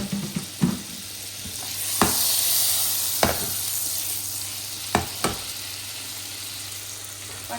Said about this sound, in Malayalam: ബട്ടർ ചപ്പിക്കകത്ത് ഇടുന്നുണ്ട്.